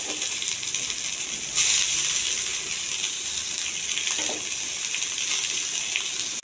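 Onions fry in hot oil with mustard seeds, cumin and curry leaves, giving a steady, loud, close sizzling hiss that holds with little change throughout.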